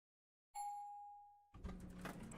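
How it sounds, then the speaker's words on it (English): Doorbell-like chime in the Witch on the Holy Night visual novel: a single clear, sustained ding rings out alone, then gives way to quieter background music. "At first I thought that was an actual doorbell coming from the door."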